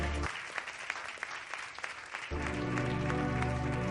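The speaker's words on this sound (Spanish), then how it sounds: "Dale un fuerte aplauso al Espíritu de Dios en esta noche" A church congregation applauds together for several seconds, a steady wash of dense clapping that swells slightly and then holds with a low sustained tone underneath.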